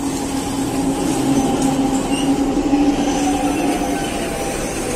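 SuperVia Expresso Japeri commuter train passing, a steady close rumble with a sustained hum and faint metallic squeal, loud and continuous without speech.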